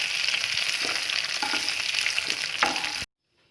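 Sliced onions frying in oil in a pan, a loud, close, continuous crackling sizzle with a few stirring scrapes, ending abruptly in silence just before the end.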